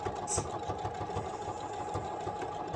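A sewing machine runs steadily at close range, its rapid rhythmic stitching clatter continuing evenly as it sews appliqué onto a scrap fan quilt.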